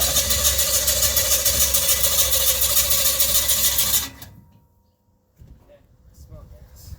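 An Edelbrock-equipped V-drive power boat engine runs with a loud, rough, pulsing idle close by, then cuts off abruptly and leaves near silence broken by faint sounds and voices.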